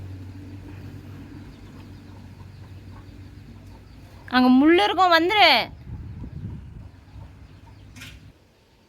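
A chicken lets out one loud, harsh, warbling call lasting about a second in a rural farmyard, close to the listener. A low engine hum runs underneath and people talk before and after the call.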